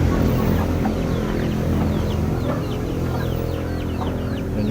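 Birds calling and chirping inside a pigeon loft, a busy chorus of repeated short calls over a loud, constant background hum.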